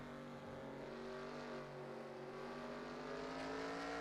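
Race car engines in a racing video game, a sustained droning whine with gradually rising pitch as they accelerate, steady and somewhat distant, without talking.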